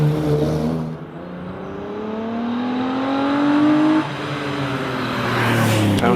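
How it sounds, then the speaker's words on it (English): Ginetta G15 race car launching off the line at the Prescott Historique hillclimb, its engine revving up through rising tones, dropping briefly at a gear change, then climbing again as it pulls away, loud and close. "the nimble little Ginetta G15 of Oliver Slater gets off the line"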